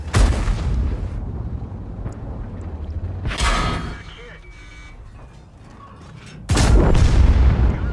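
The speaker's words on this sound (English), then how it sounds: "I can take the shot from the KV-1" Heavy tank cannon shots from a KV-1 in World of Tanks, a loud booming blast near the start and another around three seconds in. A third hits near the end, with engine rumble and battle noise between them.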